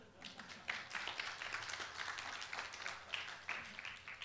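Lecture audience clapping during a special AI and digital knowledge talk at KIST, a dense patter of many hands held at moderate level and fairly near, with a few sharper claps standing out over about four seconds.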